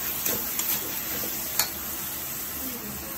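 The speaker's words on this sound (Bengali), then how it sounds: "এবার আমরা সুন্দর করে তেলে ভেজে নিব।" Pitha dumplings fry in hot oil, giving a continuous close sizzle with a few sharp clicks and taps from stirring.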